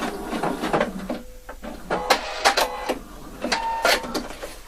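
A sewing machine stitches a facing along the seam of a round neckline in short whirring bursts with brief pauses between runs, close and fairly loud.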